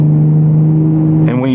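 A 2025 Ford Raptor V6 engine revving as it accelerates, a loud, steady droning exhaust tone that shifts upward near the end, heard close and alone.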